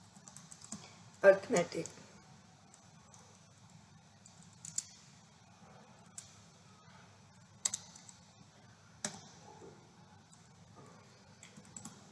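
Computer keyboard typing, scattered bursts of key clicks spread out over time, soft and close, with someone speaking in Hindi over it.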